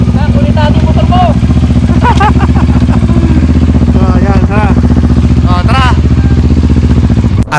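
A Kawasaki Ninja 650 (ER6F) big bike is ridden on the road, its engine humming loud and steady close by, while voices talk over the continuous motor drone.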